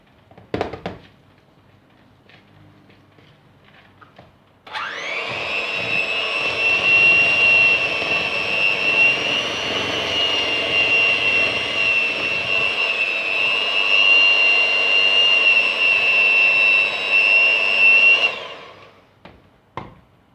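An electric mixer whirs loud and steady through parsley and cheese cake batter, starting abruptly after some faint clatter and running for about fourteen seconds before winding down. No one speaks.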